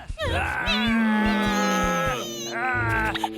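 A cartoon cat gives one long, drawn-out, whining meow, loud and close, followed by a shorter second cry.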